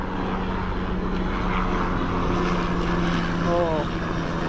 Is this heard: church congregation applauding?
no